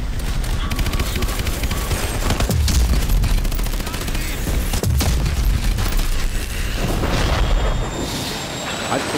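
Heavy gunfire and explosions in Call of Duty: Advanced Warfare, dense rattling bursts and booming blasts in a loud continuous barrage.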